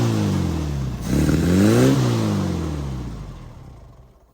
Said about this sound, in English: Rev it up kind of high.